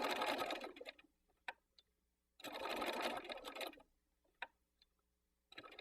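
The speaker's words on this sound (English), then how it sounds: "I'm doing a stitching line 1/4 of an inch from the edge of the circle" A sewing machine stitches a line in contrasting thread. It runs in two fast, rattling bursts of roughly a second and a half each, separated by a pause with a few small ticks and clicks, and then starts a third burst.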